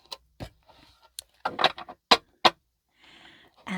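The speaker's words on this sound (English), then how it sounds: "Now I'm going to shuffle and cut here 3 times. This is shuffle and cut number 1." Tarot cards being shuffled and cut by hand up close, a scatter of short crisp riffling and tapping bursts with quiet pauses between them.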